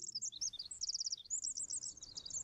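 Birds chirping in the survival video game The Forest, a quick flurry of high, bright tweets and trills over a faint low background, with no talk.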